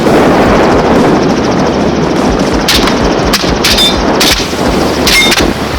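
Loud, sharp gunshots ring out from a helicopter over a Texas ranch, several cracks spaced over the continuous roar of the rotor and engine.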